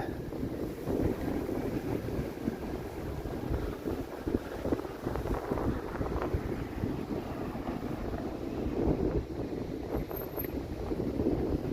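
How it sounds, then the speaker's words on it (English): Gusty wind outdoors in a city on a hot day: a continuous low rumble of wind buffeting the microphone, rising and falling slightly over several seconds, close and steady, no voices. "Here comes some of that gusty wind"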